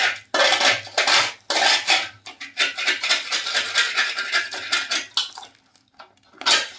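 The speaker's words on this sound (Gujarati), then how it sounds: "જે ગરમ હતા આવી રીતે પાડી દેવાના બટકા." Hot sesame chikki made with sugar is broken into pieces, producing repeated close scraping and clattering bursts of hard pieces against a pan or plate, with short pauses between.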